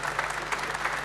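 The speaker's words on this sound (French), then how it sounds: "Je crois qu'on peut l'applaudir." Steady applause from an audience at an awards ceremony, a brief burst of many hands clapping at close to moderate distance.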